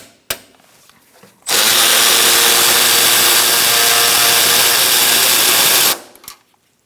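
A power tool whirs steadily and loudly for about four and a half seconds, backing out a bolt while replacing the coolant reservoir on a 2002-2006 Honda CR-V. Brief clicks of handling come before and after the tool runs.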